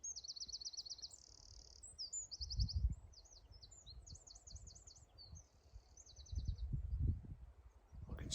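Dartford Warbler calling from gorse on open heathland in Devon, a series of short high buzzy chattering phrases repeated across the clip, faint and distant, with low rustling and wind thumps beneath.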